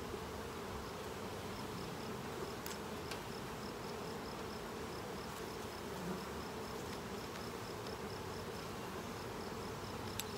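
A dense, steady buzz of many honeybees in a hive fills the scene continuously, close and constant, with no voices.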